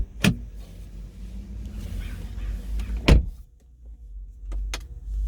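A 2020 BMW M340i sDrive settles after being shut off: a low idle rumble fades under two sharp clicks and thuds, then a few soft clicks as the cabin quiets.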